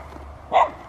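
A dog on an evening walk gives a single short, fairly loud bark over quiet background noise.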